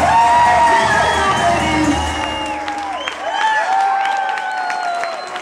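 A concert audience applauding and cheering after a song, with dense clapping, whoops and shouts rising loud and then easing off.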